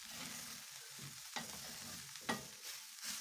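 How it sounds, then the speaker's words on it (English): Ground beef and onions fry in a pan, a soft steady sizzle broken by a few sharp scraping stirs of a utensil against the pan. "Stir it in as the meat browns and the onions soften"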